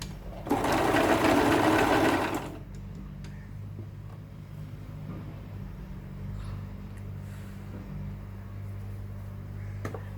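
A sewing machine runs in a fast, loud whirring burst of about two seconds, stitching the folded edges of a cloth face mask, then stops and leaves a steady low hum in the background.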